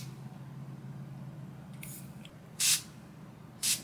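Saline mist spray for piercing aftercare, two short hissing bursts from the pump bottle over a quiet room hum, preceded by faint handling clicks.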